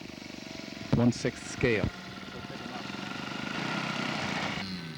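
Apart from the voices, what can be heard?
model aircraft with Indian 90 four-stroke engine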